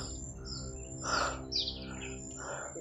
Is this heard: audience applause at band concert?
no